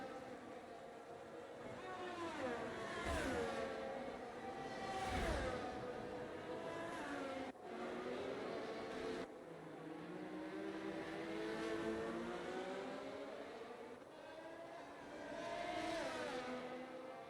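Formula 1 car engine in F1 22 at the Canadian Grand Prix, a steady high whine rising and falling through gear changes and passing cars, loud and continuous with no talk.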